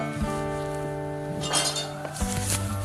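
A metal spoon clinks against a bowl while scooping rice flour for a homemade face pack, with several light, bright taps and scrapes close by, alone with no talking.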